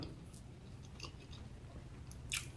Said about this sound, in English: I don't know if y'all can hear the crunch.